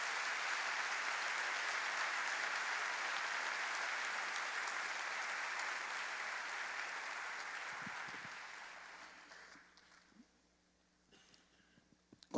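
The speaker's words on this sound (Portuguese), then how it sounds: "Vamos aplaudir o Senhor." A church congregation applauds steadily for about eight seconds, a broad even roar of clapping that gradually thins and fades out into near silence.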